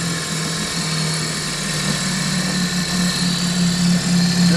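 A 1949 Martin Fisherman "40" 4-horsepower outboard motor runs in reverse at a low, throbbing idle, a continuous mechanical drone with a buzzing rattle, close and loud, no speech.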